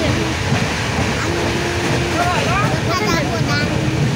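Passenger train ride in India in December, a loud continuous rumble and rattle of the moving carriage with wind noise, whistling squeals, and faint voices underneath.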